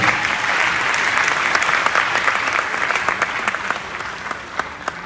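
Sustained applause from a lecture audience at KNUST following a talk on policing by Ghana's Inspector General of Police, dense and loud at first, then thinning into scattered individual claps toward the end.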